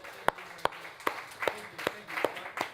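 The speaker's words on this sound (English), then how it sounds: "I think we need to give Paul another round of applause." An audience at a talk by Paul Dunn claps for him: quiet, sparse applause whose sharp claps fall in a slow, even rhythm about every half-second.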